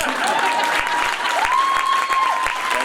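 Audience at a board of education reorganization meeting applauds with steady, dense clapping throughout, a faint whistle-like tone rising above it midway.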